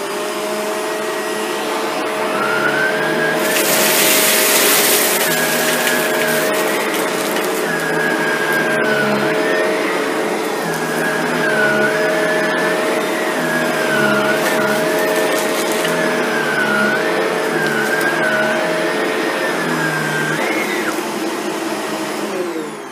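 A Shark Rotator NV752 vacuum cleaner set to low pile runs on carpet over seeds and lentils, a loud, steady motor whine with a shifting pitch as it is pushed back and forth.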